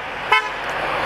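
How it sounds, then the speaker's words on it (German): A car horn gives one short toot on a street in Freiberg during a visit by the state's minister-president, rising briefly above a steady wash of outdoor background noise. "Da wurde eben gehupt"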